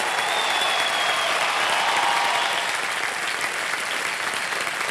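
Studio audience applause on the KBC game show after a contestant wins a prize: loud, sustained clapping from a large crowd, steady for the whole stretch, with a faint musical tone sliding briefly underneath.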